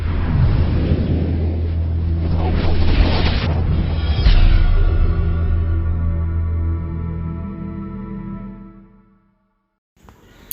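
A RotoGrip UFO bowling ball rolls down a lane with a heavily used league oil condition, a deep rumbling roll building to a crashing impact into the pins partway through, then a fading rattle before near silence.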